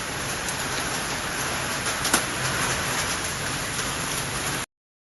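A continuous roar of hail and rain falls outdoors, a broad, even patter with a brief sharper knock partway through. The sound ends abruptly, with no voices heard.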